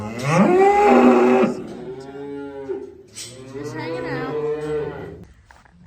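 A cow lets out a loud, long moo nearby, followed by lower drawn-out lowing, with a brief spoken phrase in between, among cows in headlocks and calves in a barn.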